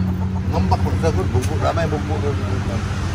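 Native chickens and roosters cluck continuously on a farm, with a dense layer of bird calls over steady background hum and a low rumble.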